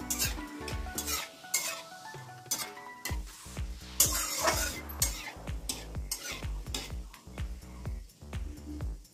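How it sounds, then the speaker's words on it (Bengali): Cumin, dried chilli and bay leaf fry in hot oil while a spoon stirs the pan, producing a steady sizzle broken by repeated rhythmic scrapes and metallic clinks, close and loud. "ফোড়নটা একটু লাল হয়ে ভাজা ভাজা হোক।"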